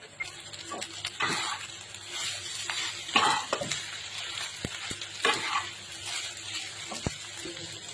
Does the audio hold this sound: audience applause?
no